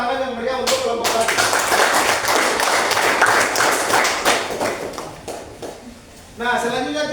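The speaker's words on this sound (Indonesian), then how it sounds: "berikan tepuk tangan yang meriah untuk kelompok 1" A classroom group claps for the first presenting team, a burst of brisk, close applause between stretches of a teacher's speech, which resumes as the clapping dies down.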